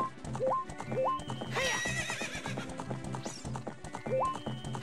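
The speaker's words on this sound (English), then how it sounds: "I just love riding Epona." Horse hooves clip-clop at a galloping rhythm in the video game The Legend of Zelda: Ocarina of Time, as the mount Epona runs across Hyrule Field. A whinny cuts in partway, and a voice talks faintly underneath.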